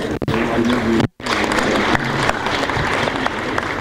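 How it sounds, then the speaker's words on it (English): Delegates at a 2018 police security summit give a loud, dense round of applause, broken by one abrupt brief gap before the clapping resumes and carries on steadily. "Please, a round of applause for them and everyone here."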